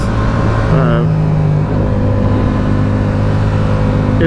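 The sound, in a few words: Yamaha R7 motorcycle engine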